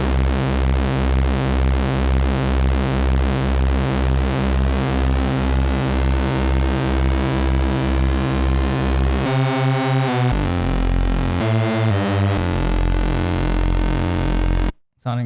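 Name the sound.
UNO Synth Pro analog synthesizer with unsynced LFO modulation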